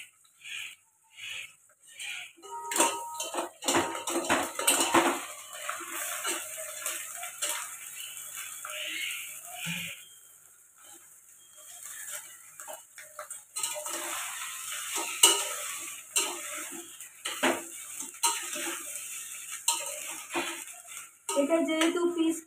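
Cooked rice is stirred into lightly fried onions in a pan for pea pulao, with scattered scraping and clinking of a spoon against the pan over a faint sizzle, close by; a voice talks intermittently.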